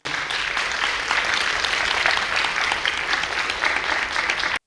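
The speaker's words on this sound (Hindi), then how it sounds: "तो हम रवीना डांस एकेडमी को तालियों से नवाजें" Sustained audience applause honors the Raveena Dance Academy at an Indian classical dance aarangetram, a steady wash of many hands clapping with even intensity throughout.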